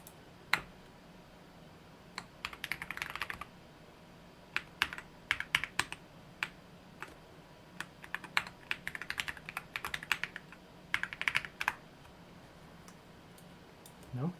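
Typing a password on a computer keyboard, with quiet, scattered key clicks arriving in uneven bursts, some sharper taps standing out, alone and fairly faint.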